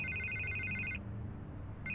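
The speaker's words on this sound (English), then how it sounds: "I can't get the phone to stop ringing." A telephone rings in a Batman video game, two bursts of an electronic trilling ring separated by a short pause, clear and close with no talk over it.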